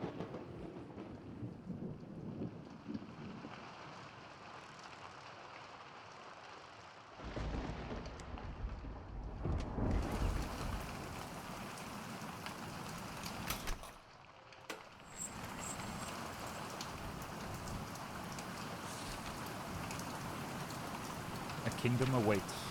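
Thunderstorm with heavy rain in the video game Midgardr: a steady downpour with deep rumbling thunder bursts around the middle, fairly loud throughout, with a voice briefly talking in places.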